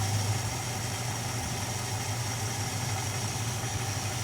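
A 1969 Dodge Dart GT engine idles steadily in hot weather, its choke repeatedly trying to engage and its idle set near 700 rpm, giving a continuous low rumble with no talk.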